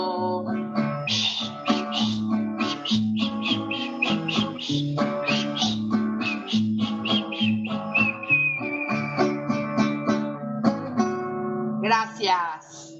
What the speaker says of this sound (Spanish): Aquí se acaban los versos y yo me quedé chiflando.